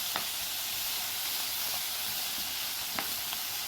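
Vegetables stir-frying in a wok in a school cooking lesson give a steady, even sizzle and hiss throughout, with a few faint clinks of tossing.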